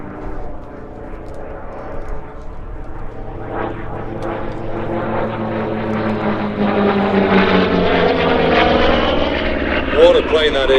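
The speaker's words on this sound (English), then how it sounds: "What a plane that is." A Grumman F8F Bearcat with its big radial piston engine flies past at an airshow, its droning roar building steadily from moderate to loud as it nears, with a rising whine toward the end.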